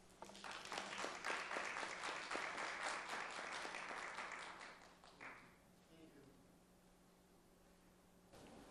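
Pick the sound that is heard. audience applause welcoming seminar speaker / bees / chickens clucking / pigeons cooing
audience applause welcoming seminar speaker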